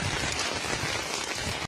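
Heavy rain pours steadily in Morocco, a dense, loud hiss of water hitting surfaces that fills the scene before cutting off abruptly, with no voices.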